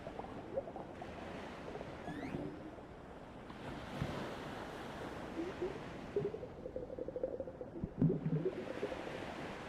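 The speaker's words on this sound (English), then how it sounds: "Listen for the crashing of the waves at the surface of the water." Ocean surf rolls and breaks in uneven surges, with wind buffeting the microphone and a rougher crash near the end.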